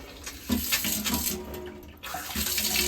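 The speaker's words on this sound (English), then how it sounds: "Water's now back on." Water runs steadily from a Reginox Drave/Mesa tap just after its cartridge valve was replaced, a continuous close splashing rush into the sink with slight surges, no voices.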